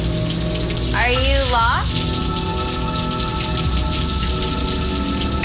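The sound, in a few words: heavy rain falling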